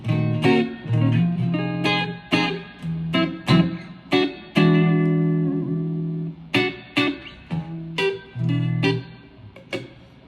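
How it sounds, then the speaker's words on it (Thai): Clean, bright Ibanez Gio GSA60 electric guitar on a single-coil pickup playing alone, ringing chords and single notes picked in a loose rhythm with crisp attacks and sustained glassy tone. "เสียงใสมากครับผมเสียงค่อนข้างใสเหมือนอารมณ์เหมือนเราเล่นสเตตนะค่อนข้างใสเลยนะ"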